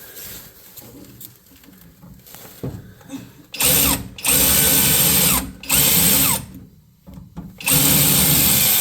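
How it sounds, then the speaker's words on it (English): A ratchet wrench on a fuel tank bolt under a Suburban, heard as loud buzzing bursts of clicking that start and stop several times, with quieter rustling and shop noise between the bursts. "Now turn your ratchet complete."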